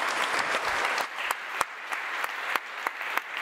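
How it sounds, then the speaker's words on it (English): Audience applause at the close of a panel discussion at a conference on global partnerships, a steady wash of clapping with a few sharp individual claps standing out as it tapers off. "give everybody a round of applause"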